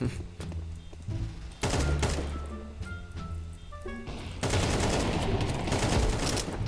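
Gunfire in a first-person shooter round, sharp bursts of shots and thuds in clusters with brief pauses, growing into heavier, denser firing toward the end.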